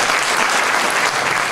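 Brief burst of full, steady applause from an audience at a gospel album presentation event.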